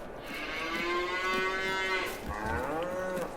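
Brown Swiss dairy cows low in a farming simulation game, a long drawn-out moo followed by a second rising call, loud and close with no talk over them.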